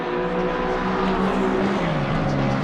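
GT race car engines at Suzuka in Assetto Corsa Competizione hold a steady loud howl, the pitch sliding down slightly as a car lifts off, with no voices.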